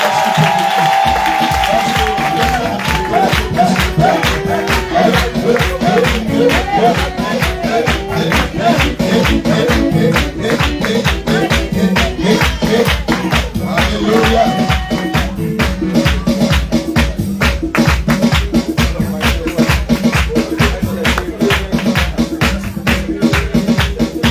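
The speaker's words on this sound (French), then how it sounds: "Je veux que tu donnes une forte offrande d'acclamation au nouveau baptisé." A church congregation claps and cheers for the newly baptized, a loud, steady rhythmic clapping that runs the whole time, with voices mixed into the din.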